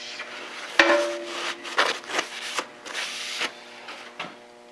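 A sharpening stone is rubbed along a freshly ground metal edge to knock off the burr. Several short, close scraping strokes come in irregular bursts, with a faint metallic ring after the first one.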